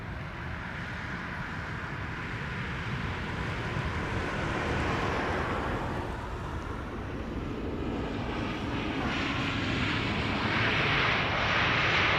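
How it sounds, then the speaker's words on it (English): An Airbus A320neo landing at Amsterdam Schiphol Airport gives a broad, steady jet roar that swells slightly as it approaches, heard from a distance with no voices. "Now we're missing out on the landing of an A320neo behind me."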